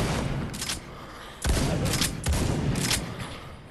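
Shotgun fire in The Walking Dead Onslaught video game comes as several loud, close blasts in quick bursts over a noisy game background.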